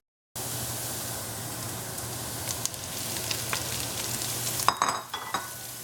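Vegetables and meat for a garbanzo bean soup frying in a pot, a steady close sizzle with intermittent scraping stirs and clinks growing more active toward the end.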